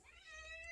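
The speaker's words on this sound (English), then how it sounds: "that's my cat" A cat lets out a single short, faint meow, heard alone and rising slightly in pitch.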